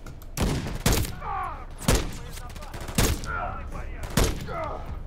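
Call of Duty Modern Warfare 3 (2023) firefight: several loud gunshot bursts crack at irregular intervals about a second apart, close up, with shouted voices between the shots.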